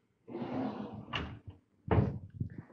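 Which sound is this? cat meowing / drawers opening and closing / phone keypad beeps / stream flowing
drawers opening and closing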